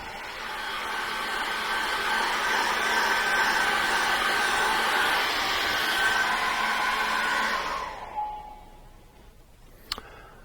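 A hairdryer blows steadily and loudly on a wet paint brush for about eight seconds, then switches off and winds down. A brief click follows in near silence.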